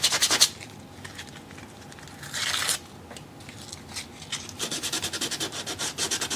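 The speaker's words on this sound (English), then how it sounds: "Take out the trusty dusty sandpaper here." Coarse P80 sandpaper rubbing across a wooden skull art piece, with scattered scratchy bursts that settle into quick, regular back-and-forth strokes near the end, close and fairly loud.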